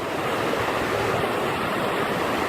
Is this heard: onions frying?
no